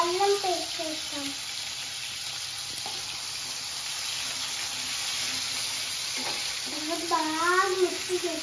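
Ginger paste fries and is stirred in a pan while making Bombay chutney for hotel-style poori curry, a steady hiss of sizzling oil with occasional scraping, while people talk over it.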